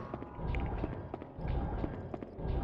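Footsteps of the player character in the survival horror game Haunting Ground: a steady run of dull, clopping steps at moderate volume over a low ambient background, with no talking.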